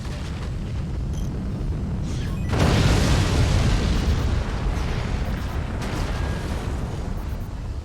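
A base core blows up in the Forts real-time strategy game, a loud rumbling explosion that swells after a couple of seconds and keeps roaring for several seconds over a steady din of battle, with no voices.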